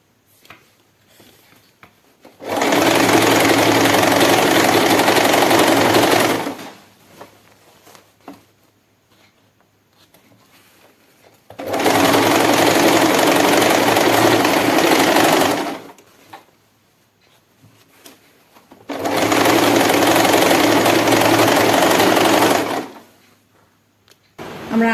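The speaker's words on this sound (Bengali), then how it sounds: "এবার শুধু শাড়ি আর পাটটা সেলাই হবে।" An electric sewing machine stitches a saree in three sustained bursts of rapid, even whirring and clatter, each lasting a few seconds with quiet pauses between, close and fairly loud.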